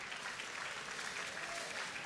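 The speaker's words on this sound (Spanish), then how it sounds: "la barra de Villa Lugano está con Fabián Chancalay, que recoge los primeros aplausos, el pupilo de Oscar Torres." Boxing match crowd giving steady, dense applause for a boxer entering the ring, a continuous wash of clapping with no voices.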